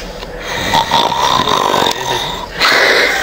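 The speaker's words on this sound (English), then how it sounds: "he's snoring." A man snores nearby, loud rough snorting breaths rising and falling over a few seconds, with faint voices in the background.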